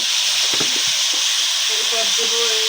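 Onions with chili and turmeric powder sizzling in a pot on a clay stove while biryani is cooked, a steady hiss of frying with a few stirring clatters, close and fairly loud.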